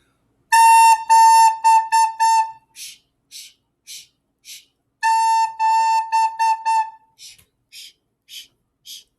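A recorder plays practice notes from a music lesson, set out as two matching phrases: a few sustained tones followed by a run of short detached notes, then a pause and the same pattern again, clear and close with no talking.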